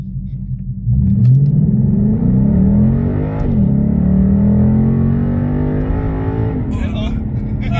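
A car with a 5.0-litre V8 launches hard from a standstill, its engine roaring loud and close inside the cabin with a rising pitch through the revs, a gear change midway, then climbing again; faint talk at the end.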